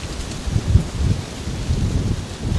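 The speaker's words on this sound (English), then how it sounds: "It is definitely windy." Strong wind blows during a winter storm, a loud, steady low roar with buffeting gusts against the microphone, alone with no voices.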